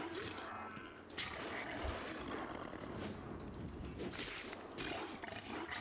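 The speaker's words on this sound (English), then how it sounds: "Oh, there's a wolf!" Wolf growling in the survival game Savage Lands, a dense, continuous rumbling snarl that fills the whole stretch at steady loudness, with no speech over it.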